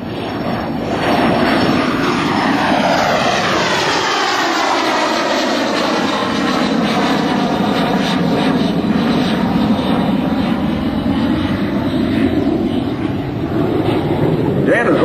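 A propeller airplane makes a low pass at an airshow, droning past with its engine rising and sweeping in pitch as it passes overhead, loud and steady over a windy background.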